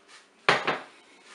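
Peeled apples drop into the metal bowl of a Cookeo multicooker, two quick hollow knocks close by, the second softer, with no talk.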